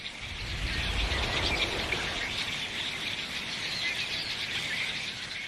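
A flock of redwing thrushes fills the air with a dense, continuous chorus of high chirping and twittering, steady and fairly loud throughout with no voices.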